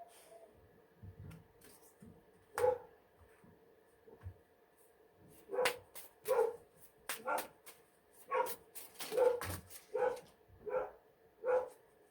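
A dog barks indoors in a quiet room, a few scattered barks early and then a run of about eight fairly regular barks at moderate distance, with no talk over them.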